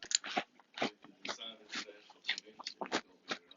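Crunchy Cinnamon Toast Crunch cereal being chewed up close, with repeated loud crisp bites and crunches in an uneven rhythm, about eight sharp bursts over a few seconds.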